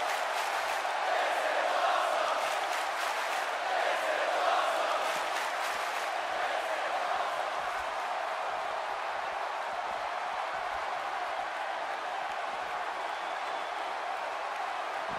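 A large indoor wrestling arena crowd roars steadily through a women's championship triple threat match, a dense sustained wash of cheering that swells in the first seconds and then holds loud and even.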